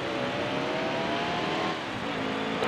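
Race cars roaring together at the green-flag start of a NASCAR Heat Evolution online race at Richmond, a dense, continuous engine drone at steady high loudness throughout, with no talking.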